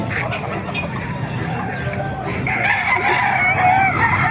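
Farmyard chicken noises sit under background chatter, with a Kanawayan-cross rooster's crow rising midway through, at a market in Calumpit.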